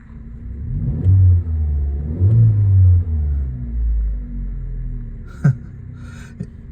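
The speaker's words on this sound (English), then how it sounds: "I'll give it a rev." A 2001 Vauxhall Corsa 1.2 SXI (Corsa C) engine is revved close up from idle in several rising and falling bursts, then settles, followed by a couple of short knocks.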